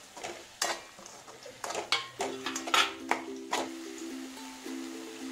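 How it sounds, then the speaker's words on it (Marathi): Masala being sautéed and stirred in a pan for veg biryani, with repeated close scraping and clinking of a spoon against the metal and a faint sizzle beneath, several sharp knocks spread across the stretch. "आता आपण हा मसाला त्यामध्ये ऍड करूया आणि परतून घेऊया।"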